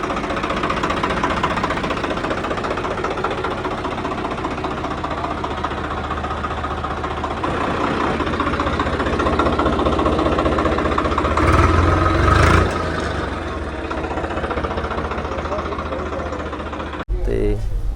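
A steady, low diesel engine of a 2018-model tractor idles nearby with a rumbling, knocking beat, and a voice talks over it throughout.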